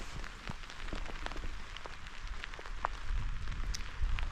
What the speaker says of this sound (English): the rain's picking up quite a bit